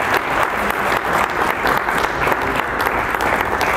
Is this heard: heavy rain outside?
no